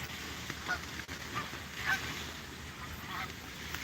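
Geese honking repeatedly at a moderate distance at Fireman's Beach, several calls overlapping in an irregular rhythm over steady outdoor background noise.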